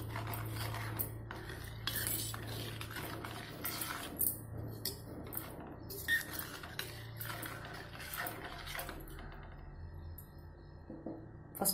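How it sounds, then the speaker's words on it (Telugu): Tamarind pulihora mix stirred in a pan on the stove, a spoon or ladle scraping and clinking against the metal in an uneven, continuous rhythm with a low steady hum beneath, close and moderately loud. "స్టవ్ అంటేసినది కలుపుతుండాలి, అడగట్టకుండా కలుపుతుండాలి"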